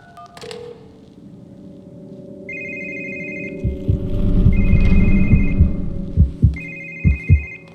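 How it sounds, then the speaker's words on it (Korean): A phone rings in repeated electronic trills in the horror video game The Devil Within, three short bursts with gaps, over a low rumbling drone and deep thudding pulses like a heartbeat. "전화 소리 뭐야?"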